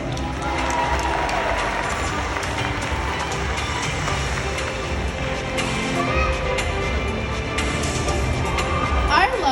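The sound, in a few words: audience applause at Six Flags dolphin show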